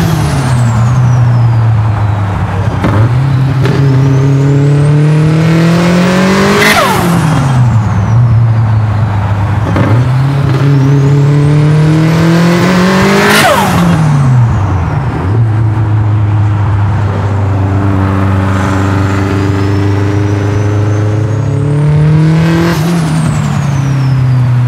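Turbocharged Subaru WRX STi engine revving hard in repeated pulls, each climbing to a high whine with turbo whistle before dropping back, loud and close over a steady idle rumble with no talking.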